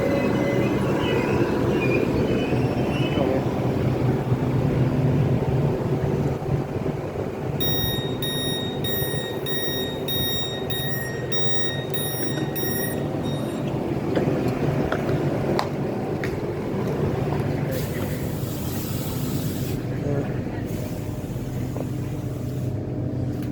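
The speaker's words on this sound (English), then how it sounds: "now departing Stratford International" Train pulling out of Stratford International station, a loud continuous rumble of wheels and motors throughout, with a brief high chiming tone midway and a hiss of air near the end.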